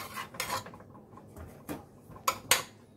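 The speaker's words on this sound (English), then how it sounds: "So I transfer the potatoes in the baking pan." Potatoes being moved into a baking pan in a home kitchen: a few scattered clinks, scrapes and taps of a utensil against metal, quiet and close, with short pauses between them.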